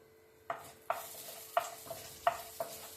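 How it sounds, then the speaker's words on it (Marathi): Mustard seeds and cumin temper in hot oil, a quiet background sizzle broken by several sharp pops and stirring knocks spaced irregularly across a few seconds. "इथे मोहरी, जिरी, तर तडका देते थोडासा"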